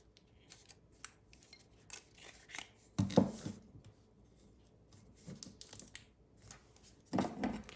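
Paper trimmed away around a mug with scissors, a few quiet close snips and paper rustles spaced out over several seconds, with a couple of louder crisp cuts standing out.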